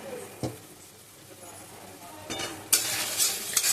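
Cauliflower frying with spices and tomato for a katla fish curry, a low sizzle with occasional spoon scrapes that swells into a louder, brighter hiss of oil near the end, heard up close.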